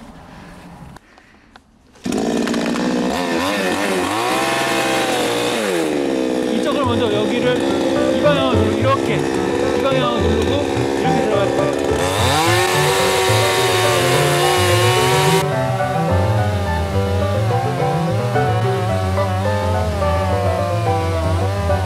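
An engine chainsaw cuts wood, running loud and close as its revving pitch rises and falls through several bursts, with the engine droning steadily between cuts.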